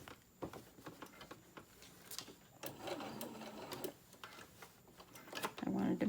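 Sewing machine stitching across a small tote bag with pockets, a steady mechanical whirr running in short bursts with brief pauses and handling clicks, close and fairly quiet.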